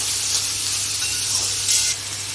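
Large onions sauté in a pan for Madurai egg mass, giving a steady, close sizzling hiss throughout with a slightly louder flare near the end and no voices.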